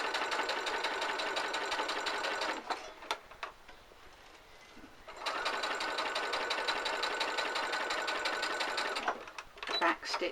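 A sewing machine runs two long bursts of fast, even stitching along the seam of a fabric glasses case. Near and loud, it pauses between bursts, where soft handling sounds come through.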